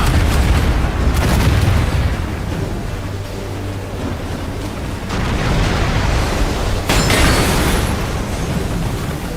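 Ship cannon fire in Assassin's Creed Black Flag, a naval battle at sea: heavy booms roll over a constant wash of waves and rumble, with sharp blasts near the start and again toward the end, loud and dense throughout.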